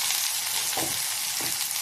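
Chopped onions hiss and sizzle steadily in hot oil, a dense continuous frying sound with faint stirring scrapes.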